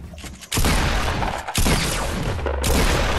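Rapid bursts of video-game gunfire crack loudly over several seconds, dense and continuous with brief pauses, from a match featuring a shopping cart, alone without talk.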